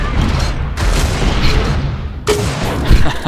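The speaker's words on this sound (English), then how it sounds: "nice rocket placement by Znatch here" Booming rocket explosions and weapon fire in a fast Quake duel from a competitive esports league, loud and dense, with several blasts overlapping in a continuous roar of game action.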